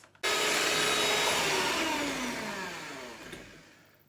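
An electric mixer whips eggs and sugar into a creamy cake batter, switching on abruptly with a loud whirring drone that holds steady and then slowly fades as it winds down.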